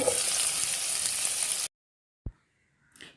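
Chopped onions hit about three spoons of hot olive oil in a pan for kabsa and sizzle loudly and steadily for under two seconds. Then the sound stops abruptly, followed by a single click and a faint clatter.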